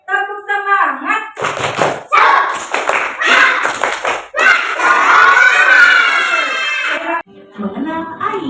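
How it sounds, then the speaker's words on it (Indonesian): Children in a classroom do a rhythmic spirit clap, with sharp patterned claps and chanting voices alternating with an adult's lead, loud and close. "kita tepuk semangat dulu yuk"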